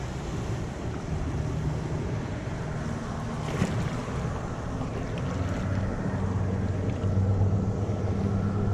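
Constant low rumble of a passing boat on open water off South Florida, heard from a kayak, mixed with wind buffeting and lapping waves of its wake, steady throughout with a slightly louder swell near the end.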